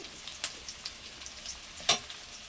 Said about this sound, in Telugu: బాగా గోధుమ రంగు రావాలండి ఆనియన్, అట్లా వేయించుకోవాలి.